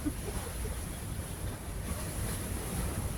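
Sea waves wash steadily onto the shore at a seaside spot, a continuous broadband rush with gentle surges and wind noise throughout, no voices present.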